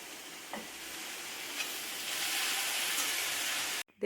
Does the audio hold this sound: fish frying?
yes